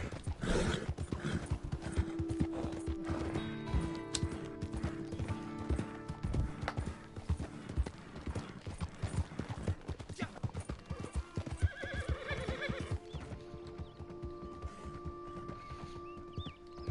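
Rapid video-game hoofbeats from a galloping horse in Red Dead Redemption 2 Online clatter steadily throughout, with a whinny near the start, fairly close and continuous over a faint background hum.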